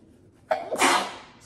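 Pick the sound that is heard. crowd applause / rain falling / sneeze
sneeze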